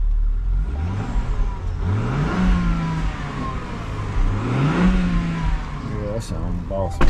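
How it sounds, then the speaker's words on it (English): Cadillac truck engine idling and revving, rising and falling through two clear pulls, loud and close, with a voice talking nearby. "Now, this motor sounds good."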